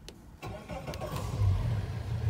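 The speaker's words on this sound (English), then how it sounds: "And that's the engine running." A 2019 Suzuki DF150 APX outboard boat engine cranks briefly and catches, then settles into a steady low rumble that grows slightly louder and runs on without talk.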